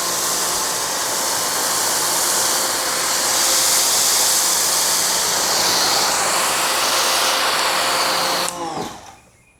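Foaming pre-wash sprayed in a wide fan onto a dirty vehicle, a loud steady hissing rush lasting several seconds before cutting off abruptly.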